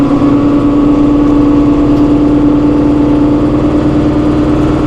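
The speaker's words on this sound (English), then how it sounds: "Try the PTO here. There's the PTO engagement." A 2016 John Deere 5100E utility tractor, 100 engine horsepower, runs steadily with the PTO engaged near 540 rpm, its loud continuous engine drone holding an even pitch throughout with no talk.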